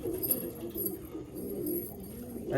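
A red-veined Giribaz pigeon of an old bloodline gives soft, low cooing, a steady murmuring coo with a few swells, close by and without talk.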